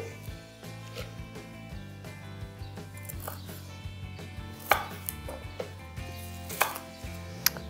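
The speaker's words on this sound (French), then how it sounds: "on coupe grossièrement pour pouvoir le mixer" Green onion and garden chives being coarsely chopped with a knife on a board, a steady run of close, crisp chopping strokes with a few louder cuts toward the end.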